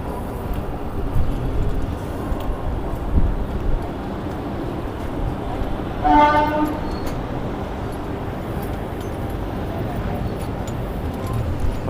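A Ganga Gomti Express train rumbles steadily near a station platform, and a short horn blast sounds midway through over the continuous rolling noise.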